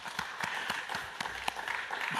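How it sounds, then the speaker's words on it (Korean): Applause from a church congregation during a special early-morning Saturday worship service, with sparse, scattered claps over a soft hiss of room noise. "박수 한번 보내주십시다."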